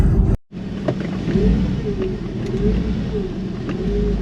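Porsche 996 engine running steadily at close range as the car sets off on a drive around Tokyo Bay, with a brief silence at the start followed by a continuous low rumble and slight rises in revs.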